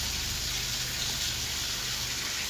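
Water gushes steadily from a tap to fill a bathtub in a horror video game, a constant, even hiss of running water with no breaks, moderately quiet and unaccompanied by talk.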